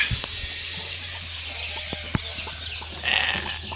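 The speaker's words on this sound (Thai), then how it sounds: "ลูกไก่เกิดแล้วนะครับผมนี่นะ" Newly hatched chicks peep in a dense high chorus on a chicken farm, with occasional clucks and a small knock, steady and close throughout.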